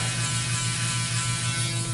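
A Series 9 electric shaver buzzes steadily as it fades hair at the base of a man's neck, a close, even, continuous hum with no talk.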